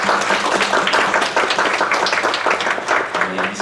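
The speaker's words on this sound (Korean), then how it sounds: "우리를 그렇게 부르신 하나님께 감사와 찬양의 박수를 드립니다." A church congregation at a special gathering claps in loud, dense applause of thanks and praise, the clapping close and steady, with some voices mixed in.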